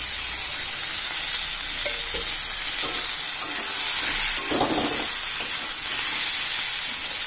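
Crushed garlic, four or five cloves, sizzles and fries steadily in a pan of hot oil, with a continuous loud hiss and occasional stirring scrapes throughout, no voices.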